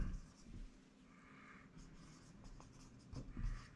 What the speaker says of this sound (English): I need to write something there